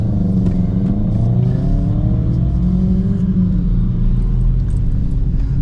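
A PT Cruiser race car drives at track speed, its engine note rising and falling through gear changes, loud and close over a constant drivetrain rumble and road roar.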